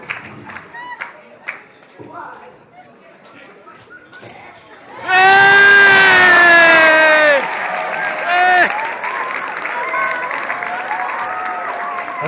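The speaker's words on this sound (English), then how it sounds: "Give it a big clap, come on." Loud burst of audience applause and cheering from a crowd at a lively event, rising suddenly and holding for a couple of seconds before easing into continued clapping and chatter; scattered talk is heard before it.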